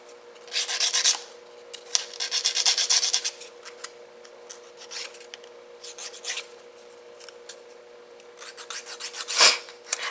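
Fingernails being filed for a set of dip nails, a close, repeated rasping in short back-and-forth bursts with brief pauses between strokes.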